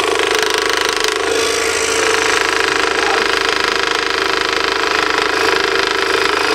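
A scroll saw cuts wood for a scroll-sawn basket with a loud, steady, fast-pulsing mechanical buzz that runs without a break and stays close throughout.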